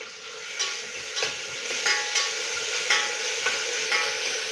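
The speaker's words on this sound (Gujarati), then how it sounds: "જીરું સોતળાઈ જાય એટલે આપણે નાખીશું લસણ આદુ મરચાની પેસ્ટ એને એક ચમચી એમાં ઉમેરી દેશું" Garlic, ginger and chili paste frying with cumin in hot oil, a steady close sizzle broken by several spoon stirs and scrapes at irregular intervals, with no talk.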